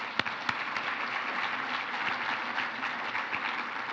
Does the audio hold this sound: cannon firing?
no